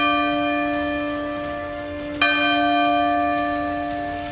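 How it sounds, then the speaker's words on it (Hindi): Bells ringing steadily in a parliament chamber ahead of a division vote, a sustained bright metallic tone with a fresh strike about halfway through, fairly loud with no talk over it. "घंटियां बजाई गई"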